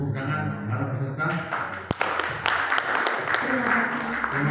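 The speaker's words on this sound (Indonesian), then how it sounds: "Tepuk tangan para peserta." Participants at a 2021 Islamic religious instructors' presentation event in Bangka Belitung break into applause. A voice and tonal sound give way to a broad, sustained patter of clapping from a room of people, with some talk underneath.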